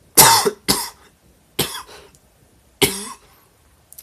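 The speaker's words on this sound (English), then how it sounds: "so sorry about the coughing" Four sharp, loud coughs come in quick bursts, two close together and then two more spaced out, with silence between them.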